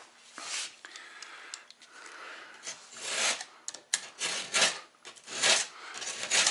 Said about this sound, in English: what's called a drywall rasp to do this. Now you can just run your blade down a couple times.